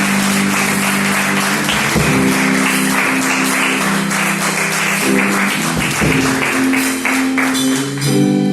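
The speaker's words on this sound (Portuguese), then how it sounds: "Pode aplaudir ao Senhor." A church congregation applauds loudly and continuously, a dense wash of clapping with sustained musical tones playing underneath throughout.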